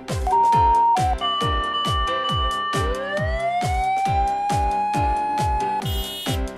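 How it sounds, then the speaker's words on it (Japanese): A toy fire engine siren wails, rising and falling over a steady rhythmic pulse with repeated low thumps, loud and continuous, with no voices. "消防車。"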